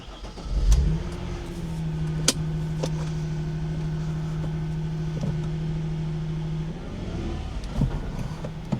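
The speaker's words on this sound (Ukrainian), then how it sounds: "перевірити, як ця машина їздить і що вона може" A car bought at a Copart auction starts with a rough burst, then idles and revs steadily as it pulls away, with a few sharp clicks and clunks.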